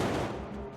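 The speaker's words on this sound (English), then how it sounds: "We have a mortar and a propane popper right down here, and we just been throwing debris and fire, and we have sparks." Pyrotechnic blasts from a mortar and a propane popper on a film set, throwing debris, fire and sparks: a dense, loud, roaring wash of explosive noise that fills the whole short moment and eases off only slightly.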